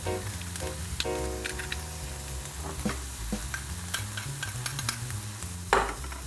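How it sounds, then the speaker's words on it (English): Food frying gently in a pan with a clove of garlic added, a steady soft sizzle under frequent clinks and scrapes of a utensil against the pan, with one sharper clatter near the end. "So let that fry gently."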